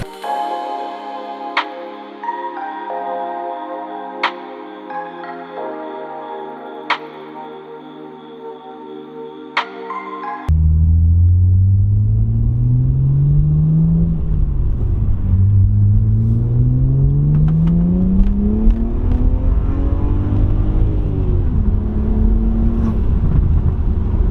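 A BMW 335i with new downpipes rumbles low and rises and falls through gear changes while driving, following a quieter opening of tones and clicks.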